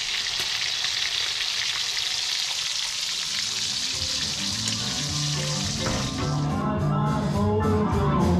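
Bacon frying in a pan at a truck camper campsite, a steady loud sizzle throughout, with stirring and clattering near the end as the pan is worked.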